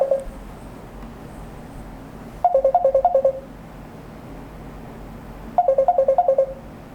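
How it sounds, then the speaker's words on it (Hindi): An incoming-call ringtone on a phone plays in two short bursts of rapid repeated beeping tones, close and fairly loud, separated by a few seconds of quiet room hum, with no talking. "एक सेकंड रुकिए जरा, फोन आ रहा है मेरे पास।"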